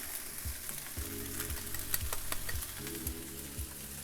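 Singapore curry noodles with chicken stir-frying in a hot pan as curry powder goes in, a steady loud sizzle broken by repeated low scraping thumps of the utensil tossing the noodles.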